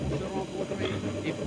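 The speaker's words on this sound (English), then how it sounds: "Try the other steam jet next time" A steam jet on a 1959 Conti Princess espresso machine gives off a steady, breathy hiss that holds at moderate loudness for the whole short moment.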